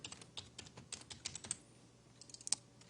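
Rapid, uneven clicking of a computer keyboard being typed on during game development coding, close and fairly quiet, with no talking over it.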